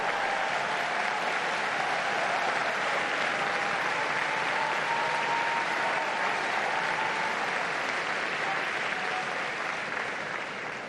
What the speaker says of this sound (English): And with that applause, we conclude this live broadcast